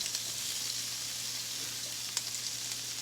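Sausage frying fast in a pan, a close, even sizzle and crackle with a low hum beneath and a single sharp pop.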